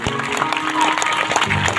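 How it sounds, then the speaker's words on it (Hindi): Hand clapping from a village audience at a Shrimad Bhagwat Katha gathering, a short ragged burst of claps with a voice and tonal sounds mixed in. "आप लोग जोर से ताली तो बजाओ ना।"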